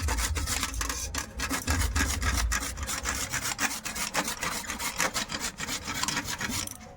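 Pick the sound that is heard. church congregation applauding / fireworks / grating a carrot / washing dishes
grating a carrot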